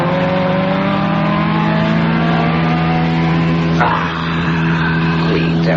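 A race car engine drones loudly and steadily for several seconds as a radio drama sound effect, then shifts in pitch as the car accelerates and passes close by.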